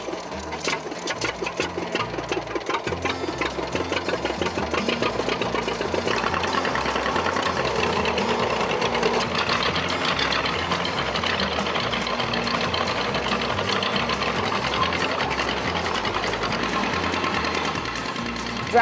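Small John Deere tractor engines chug and idle in a fast, steady mechanical rhythm for a long stretch, close by and fairly loud, without talking.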